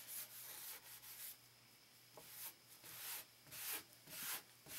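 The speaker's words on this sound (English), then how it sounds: "I'm just going to do a really thorough job of scrubbing it." Mild steel plate scrubbed with acetone, rhythmic close rubbing strokes in repeated bursts, faint and dry with short gaps between passes.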